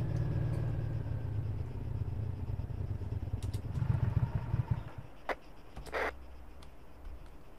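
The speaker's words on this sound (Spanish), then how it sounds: "apaga tu moto que está prendida" A low motorcycle engine in the video game Arma 3 idles and rumbles steadily, then cuts off abruptly, leaving faint background noise with a couple of brief clicks.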